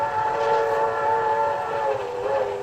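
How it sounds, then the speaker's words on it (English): A streamlined train speeds through the night toward New York City as a radio drama effect, with a steady rumble under a long sustained whistle tone, loud and continuous with no voices. "a streamlined train speeding toward New York City"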